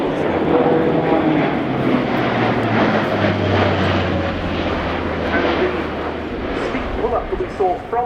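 Airbus A400M turboprop military transport in a flying display at RIAT 2018, a loud roaring propeller drone that slowly shifts pitch as it passes, with a commentator talking over it.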